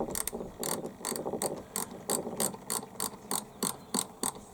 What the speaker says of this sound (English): just using my little ratchet